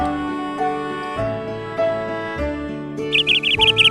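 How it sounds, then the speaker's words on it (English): A parrot's quick run of chirping calls breaks in near the end over a steady musical backing of sustained notes. "P for parrot."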